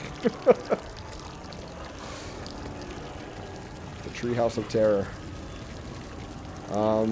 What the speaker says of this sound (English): there is water pouring out of the ceiling